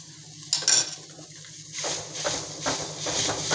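Fresh coriander is pushed around inside a kadhai to wipe up leftover oil and masala, giving metallic scraping and clinking of a utensil against the pan over a soft sizzle.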